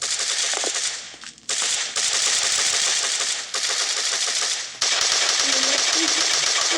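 Video game gunfire rattling in rapid automatic bursts, loud and continuous with brief pauses between volleys and faint background tones from the game.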